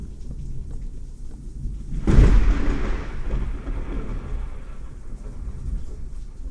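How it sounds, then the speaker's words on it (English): A thunderstorm in the video game Minecraft, with steady rain and a loud thunder crack that swells up and rolls off into the continuing downpour. "Oh, it's a crazy storm."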